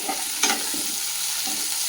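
Onions browning in a pan for goat trotter paya, a soft even sizzle with a couple of light scraping stirs, close and alone.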